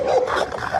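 During a street confrontation, a dog lets out a quick string of short, strained barks and yelps, fairly close and somewhat muffled over background noise.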